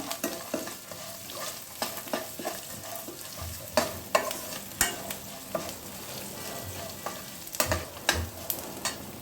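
Food fries softly in a pan with half a spoon of turmeric while a utensil stirs it, giving scattered scraping clicks and taps over a faint, quiet sizzle.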